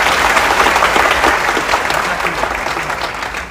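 Audience applause at an award felicitation, a loud, dense burst of clapping from a large crowd that carries on steadily and begins to fade toward the end.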